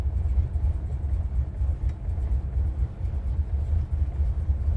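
A deep, throaty 512 Hemi V8 in a 1969 Plymouth Road Runner idles close by, a steady low rumble with slight rhythmic pulsing.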